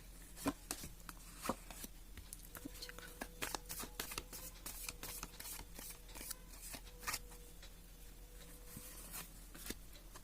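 Tarot cards are shuffled and handled close by in a quiet room, with soft repeated riffling and light tapping for about ten seconds, faint and with no talking.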